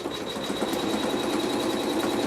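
A sewing machine runs stitching a quilt block, giving a steady, rapid mechanical whirr with a fine high whine, continuous and close with no talking.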